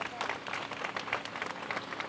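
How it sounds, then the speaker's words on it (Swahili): Applause from a crowd at a public road-building event in Kawe, a dense, fairly quiet patter of many hands clapping at a distance, with voices mixed in. "Naomba tuwapigie makofi mengi sana"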